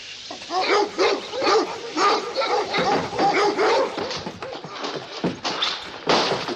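Repeated barking from dogs, rapid and fairly loud, overlapping with some yips and whimpers, continuing throughout.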